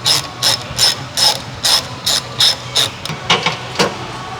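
A 5.5 mm socket ratchet clicks in quick bursts while loosening a single bolt. There are about ten loud, close, evenly spaced ratcheting strokes with brief pauses between them and no talk.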